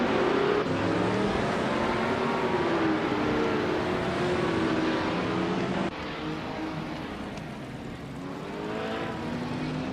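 Racing car engines drone and whine through shifting gears on a racetrack, one of them a vintage 1970 Pontiac Firebird Trans Am, heard as a loud continuous roar with rising and falling pitch and no voices.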